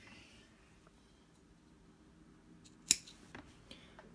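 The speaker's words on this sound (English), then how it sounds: "So I'm going to cut 5 more inches. Just got to find my scissors here." A pair of scissors snips through suede cord for a flower pendant necklace: one sharp, quiet cut stands out in near silence, followed by a couple of softer clicks.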